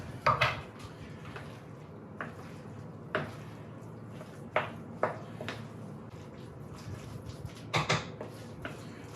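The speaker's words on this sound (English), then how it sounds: "We're just going to mix these together." Mashed potatoes and mashed celeriac being mixed together in a bowl, heard as a series of faint, irregular clinks and scrapes of a utensil against the bowl, close and quiet, with no talking.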